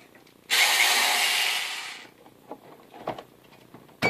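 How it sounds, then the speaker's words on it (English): A power drill running off an APC Back-UPS 500 battery backup whirs loudly for about a second and a half, then stops, followed by a few faint clicks and rustles and a brief final burst. "Plug in the drill."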